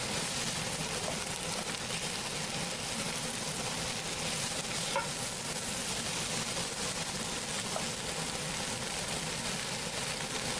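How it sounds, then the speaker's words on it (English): Chopped onions fry in hot oil while being stirred, a dense continuous sizzle that stays steady and fairly loud throughout, with faint scraping of the stirring underneath. "Stir your onion so they mix with the oil very well."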